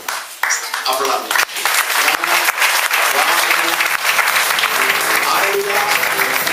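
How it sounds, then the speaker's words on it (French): Church congregation in a French-speaking service bursting into loud, sustained applause that builds and fills the room, with a voice speaking over the clapping. "Acclamez."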